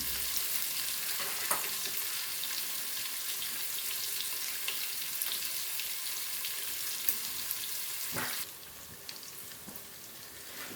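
Continuous hissing sizzle of food frying in a pan, with a few soft scrapes; the sizzle drops slightly quieter near the end.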